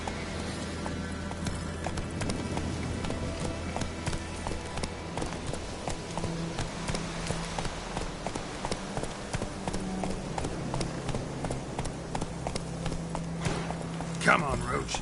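Roach the horse galloping in The Witcher 3, with steady rhythmic hoof clip-clop running under game music and a voice urging the horse on.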